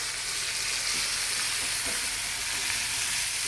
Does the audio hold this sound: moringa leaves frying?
yes